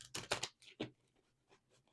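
Tarot cards being shuffled by hand, a quick cluster of crisp, riffling card sounds followed by softer, sparser flicks, close and quiet with no voices.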